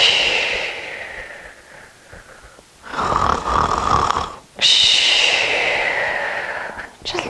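A voice imitates snoring during a relaxed children's yoga session, giving a few drawn-out, raspy snores separated by quiet breathing, close and fairly soft.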